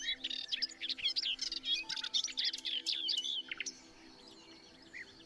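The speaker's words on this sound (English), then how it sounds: "Dawn chorus at 5 o'clock in the afternoon." Several birds sing together in a Murcia, Spain afternoon chorus that includes sedge warbler and nightingale, close and clear. Bright chirps and trills come in quick overlapping bursts that thin out toward the end.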